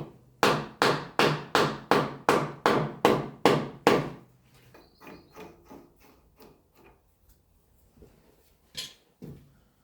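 A worm gear is hammered onto a shaft of a Victorian radial drilling machine under restoration: about eight sharp, evenly spaced, loud blows, followed by quieter taps and light metallic handling.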